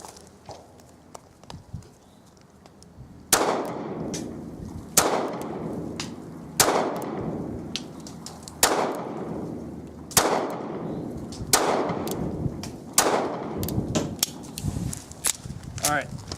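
Seven sharp gunshots from a Ruger LCP Gen 2 .380 pistol, fired outdoors at a target in windy conditions, spaced roughly every one to two seconds, each loud crack trailing into a brief echo over steady wind noise.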